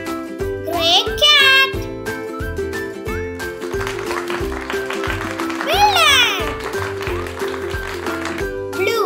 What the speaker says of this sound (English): gray cat.